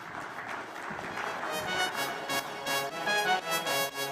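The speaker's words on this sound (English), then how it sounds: "a final round of applause for Ian Bishop, Mohammad Azharuddin, David G" Audience at a cricket stars evening event gives a round of applause, a dense sustained wash of clapping with some crowd noise throughout.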